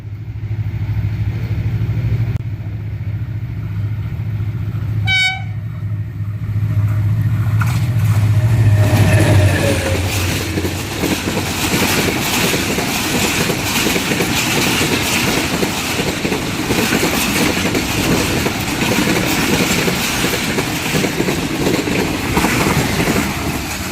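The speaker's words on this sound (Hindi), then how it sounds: "सामने से आ रही है 17 अप मिलत एक्सप्रेस HGMU 30 8211 के साथ और डब्बा वाला रेलवे स्टेशन से थ्रू पास होगी" An HGMU 30 diesel locomotive hauling an express train through a railway station, with a loud steady rumble and rattle that builds after a short high horn-like call and stays close throughout.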